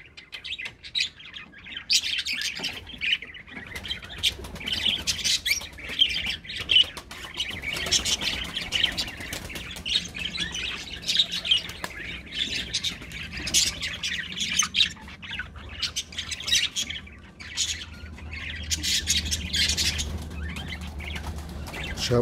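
Pigeons in a coop squawk, chirp and flap their wings constantly, a busy flock of calls and rustling close by.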